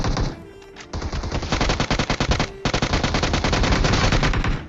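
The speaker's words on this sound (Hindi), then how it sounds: "अब मैंने समझ लिया था कि भाई वो गंदी वाली प्री फायर दे रहा है, वो भी बाइजन से" PP-Bizon submachine gun in PUBG Mobile firing long, rapid automatic bursts, loud and close, with a short pause between volleys and no talk.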